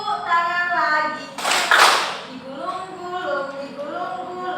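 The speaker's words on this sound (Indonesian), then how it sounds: "Tepuk tangan lagi" Children's singing in a second-grade classroom lesson gives way to a short, loud burst of hand clapping near the middle, then the singing carries on.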